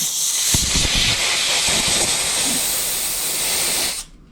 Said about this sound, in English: I'll take my bowl nut and I'll blow that out